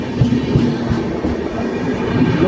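A train runs past on rails with a loud, steady rumble and rolling wheel clatter that fills the whole stretch, close and continuous with no voices.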